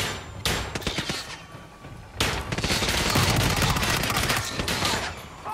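Gunfire in the Hitman 3 video game, a dense volley of rapid shots in two loud bursts with sharp cracks and thumps, close and alone.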